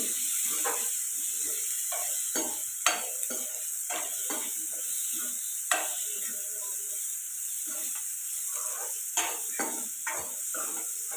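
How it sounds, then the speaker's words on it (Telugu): Ginger and garlic fry with green chillies in a pan for an egg curry, giving a steady soft sizzle and hiss broken by repeated clinks and scrapes of a stirring spoon against the pan. "అల్లం వెల్లుల్లిపాయ ఇవి ఇప్పుడు ఫ్రై చేసుకోవాలి"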